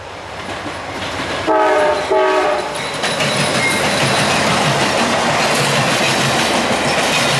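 Amtrak 66 passes by near a 7-Eleven, sounding a loud two-part horn blast before a steady, roaring rumble of wheels and cars rolling past close by for several seconds, with no talk.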